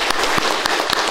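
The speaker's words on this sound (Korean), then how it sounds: "은혜 받았습니다. 박수하겠습니다." A church congregation applauds during a Sunday worship service at Seobu Jungang Church, giving dense, loud, continuous clapping with sharp individual claps standing out.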